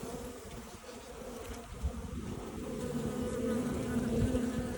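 Honey bees buzz continuously around their hive near the queen, a soft, dense insect drone that grows slightly louder toward the end, with no voices.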